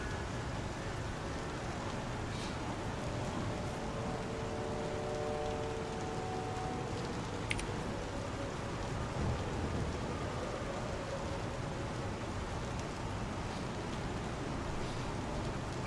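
Steady rain pours without pause in the Star Citizen video game, with a faint crack of thunder partway through and a low rumble beneath.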